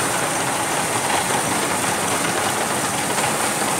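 Steady broadband engine drone from a diesel-driven water pump on an engine platform in a paddy field, droning continuously and fairly close without pauses or voices.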